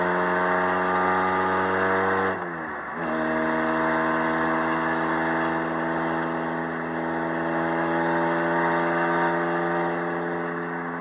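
A 1989 Nissan Pulsar NX with four-wheel drive is heard driving, its engine holding a steady mid-pitched drone with a short dip around two seconds, as if lifting off or shifting, then resuming at a constant pace from inside the car.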